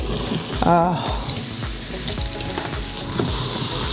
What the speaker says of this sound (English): So we're going to saute this down until these mushrooms soften a little bit.